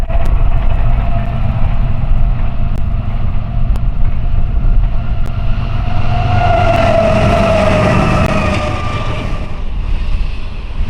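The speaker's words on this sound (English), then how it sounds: "this duo of NS Gevos and an intermodal approaches" A pair of Norfolk Southern GEVO diesel locomotives hauls an intermodal freight train past, a loud, steady engine roar and rail rumble with a rising horn-like tone swelling midway and fading.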